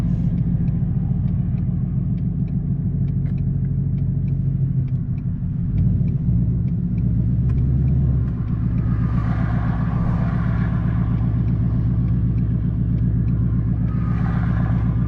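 A Ford Mustang engine in snow runs with a loud, steady rumbling drone that swells and shifts midway, holding a close, continuous throttle throughout with no talk.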